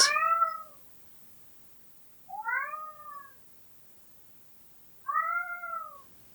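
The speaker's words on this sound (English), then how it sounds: "Meet Ross, my roommate's cat." A cat meows three times, long drawn-out cries spaced a couple of seconds apart, clear and close in an otherwise quiet room.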